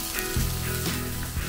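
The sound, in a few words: egg frying in a pan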